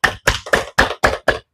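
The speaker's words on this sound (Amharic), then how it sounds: "ለራሳችሁ አጨብጭቡ። ብራቮ" Six sharp hand claps ring out in a slow, even sequence, close and loud with brief silences between them.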